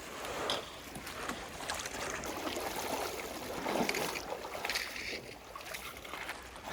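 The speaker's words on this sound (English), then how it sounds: "Our last creek crossing of the day" Backpackers cross a creek in Aravaipa Canyon in winter, with steady rushing and splashing water close by throughout and brief sloshing steps.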